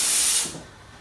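An oven burner is turned up to a high flame, giving a loud, close rushing hiss that drops sharply about halfway through and leaves a quieter, steady hiss with no voices.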